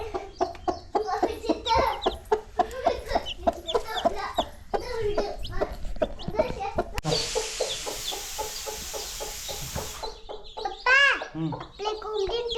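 Village hen with her newly hatched chicks, clucking and cheeping close by in bursts, with a loud stretch of broadband noise midway and a few sharp peeps near the end.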